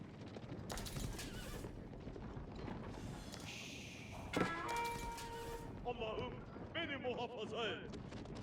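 Horsemen's hooves clip-clop across an Age of Empires battle between Holy Roman Empire and Ottoman forces, with neighs and whinnies rising near the end amid distant cannon-like booms, all under steady commentator talk.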